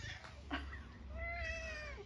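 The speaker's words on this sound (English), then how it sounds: "Very gentle meow." A cat gives a soft, gentle meow, faint and drawn out near the end after a few tiny chirping sounds, over a quiet low background hum.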